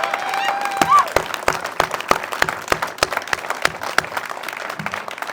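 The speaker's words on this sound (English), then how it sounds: "So one more time for our Vietnam veterans, how about a robust round of applause?" The audience at the opening of a veterans center in Wasilla, Alaska gives a round of applause for Vietnam veterans: scattered, uneven claps that thin out over several seconds.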